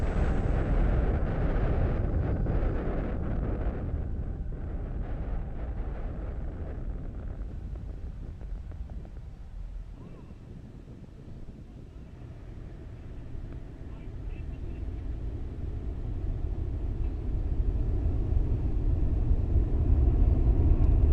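A SpaceX Falcon 9 rocket carrying Starlink satellites roars after liftoff as a loud, deep, rumbling broadband noise that swells, eases midway, then builds again, heard from a distance with wind buffeting the microphone.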